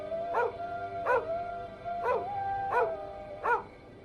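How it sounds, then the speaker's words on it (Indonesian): A dog barks five times in a steady, evenly spaced rhythm, each bark short and fairly close, over a faint background hum, with no voices. "Kenapa dia menggonggong?"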